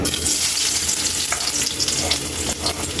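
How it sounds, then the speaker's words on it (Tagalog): Ginger sautéing in hot oil for a catfish dish, a steady dense sizzle and crackle with faint stirring scrapes, loud and close throughout with no talking. "Lagay natin yung luya. Igisa lang natin"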